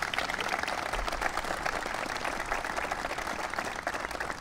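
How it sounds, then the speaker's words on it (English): An audience applauds SBA Administrator Karen Mills at a small-business event, a steady, dense wash of many hands clapping at moderate volume throughout, with no voices standing out. "Please give her a round of applause."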